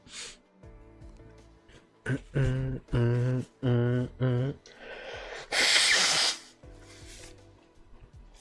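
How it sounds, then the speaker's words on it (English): Several short, forceful nasal blasts in a row, then a long hissing blow, with quieter sniffs and breaths between them close to the mic. "Had to blow my nose"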